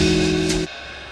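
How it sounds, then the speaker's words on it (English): A Band-in-a-Box drum track plays back with a bright open hi-hat hit splashing over a sustained backing tone, and then the music cuts off abruptly. "those open hi-hats that I just added seem a little bit loud"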